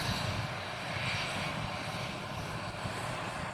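At Riga airport an aircraft engine gives off a constant broadband roar, loud and unbroken, with no talk over it.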